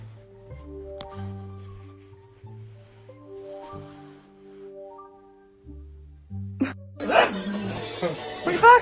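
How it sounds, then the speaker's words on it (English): A dog gives a few barks amid tonal background sounds, and the sound grows busier and louder near the end as a person talks. "What are you barking at?"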